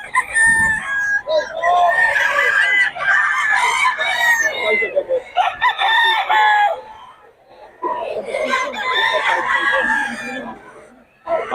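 Roosters and chickens from Nueva Ecija crowing and clucking close by, several overlapping crows in long loud phrases with brief pauses between them.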